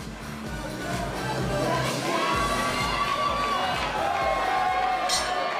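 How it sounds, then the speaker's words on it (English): A fight-show crowd at a live combat event roars and cheers continuously, with shouts and whoops rising over a dense wash of voices, loud and sustained throughout. "you can hear the crowd on their feet"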